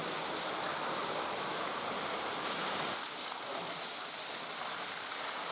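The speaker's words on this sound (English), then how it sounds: "The biggest waterfall's up here, the tallest one." Water pouring down a waterfall inside a concrete storm drain tunnel, a dense, steady roaring rush that fills the space without pause.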